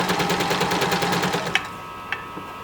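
A domestic sewing machine stitches a hem with an open French seam, running in a fast, steady rhythmic clatter that stops after about one and a half seconds, followed by a few faint clicks.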